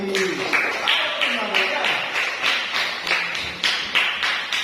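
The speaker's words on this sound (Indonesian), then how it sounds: "Tepuk tangan untuk Mahri." Schoolchildren clap in quick rhythmic unison for a classmate during a classroom lesson, the steady beats sounding close and lively alongside a speaking voice.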